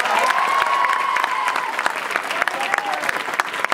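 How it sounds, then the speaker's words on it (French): Warm audience applause at a French stage show, thanking a supporting association, a full, steady round of clapping from a large crowd with a few faint cheers and voices mixed in. "On peut applaudir l'APEC."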